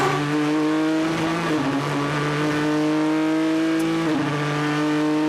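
A race car engine roars loudly and continuously during qualifying at the 2016 WEC 6 Hours of Bahrain, its pitch climbing through gear changes as it accelerates, with no talk.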